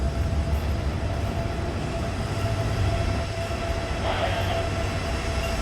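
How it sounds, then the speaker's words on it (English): State Railway of Thailand train in Bangkok, a steady close rumble of the moving carriage with wheel noise and a faint high tone, no talk. "So that train will make stops at all the major stations in Bangkok."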